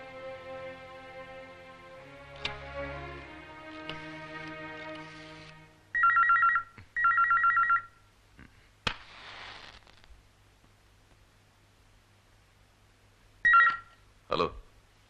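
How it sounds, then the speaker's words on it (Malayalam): A telephone rings in a Malayalam comedy film scene after music fades: two loud double rings in quick succession, then a pause and another double ring, with no talk over them. "മത്തായിച്ചേട്ടാ, വിളിക്കവനെ, എന്നിട്ട് ഞാൻ പറയാം"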